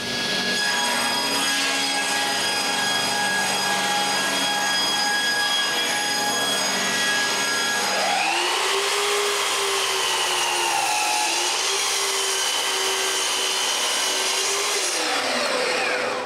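A table saw rips a wooden board to width. A steady whine runs from the start, then the blade bites in around the middle with a louder, rougher cutting tone that holds for several seconds before easing off. It is close, and no one speaks.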